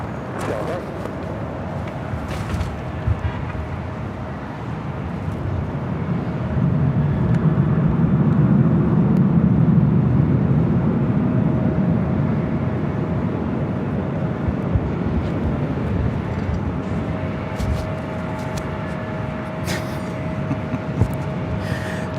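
A jet airliner taking off from runway 24 Left at Los Angeles International Airport, a broad low engine roar that swells in the middle and stays steady, with radio voices talking over it.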